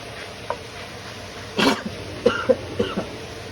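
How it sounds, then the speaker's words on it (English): A single sharp cough followed by a few smaller throat-clearing coughs, fairly close, over a steady background hum. "I'm going to be coughing a lot because my house is sort of smoky"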